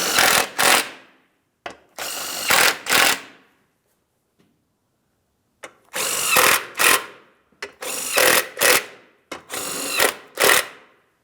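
A power tool runs mounting bolts into a shield under a GMC Sierra 2500 HD truck, sounding as close, loud, clipped whirring bursts in short clusters, with a silent gap partway through.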